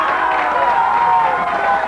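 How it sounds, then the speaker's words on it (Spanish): An audience cheers and applauds a dance group after their choreography wins a prize: a steady wash of crowd noise, clapping and shouts, loud and continuous throughout. "Aplauso para ellos"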